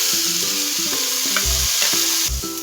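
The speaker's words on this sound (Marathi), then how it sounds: "गॅसवर नॉनस्टिक तवा ठेवलाय, त्याच्यात थोडं तूप टाकून घेते, थोडंसं पसरून घेऊया। गॅस बारीक करते। आता ह्याच्यात पनीरचे तुकडे टाकून घेते," Paneer pieces fry in ghee on a nonstick pan, giving a steady close sizzle with a few soft stirring scrapes and clunks and no voices.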